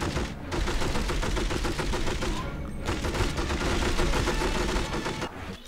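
Dense, sustained gunfire in the From Russia With Love video game, a continuous rapid volley of loud shots filling the whole stretch with only brief gaps, during a fight between Bond and Red Grant.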